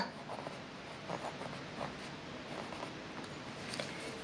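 Faint, quiet scratching of a pen or chalk writing a Sanskrit word during a lesson, a few soft strokes against low background hiss.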